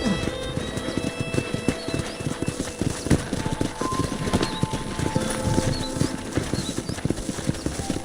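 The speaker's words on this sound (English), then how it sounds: "let's see if you can still ride a horse." Steady clip-clop of horse hooves at a walking rhythm in Red Dead Redemption, with a brief whinny and light ambient game sounds.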